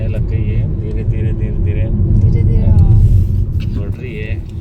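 Road traffic passes by during a morning outing, with a low rumbling vehicle drone that swells and fades, heard under someone talking throughout.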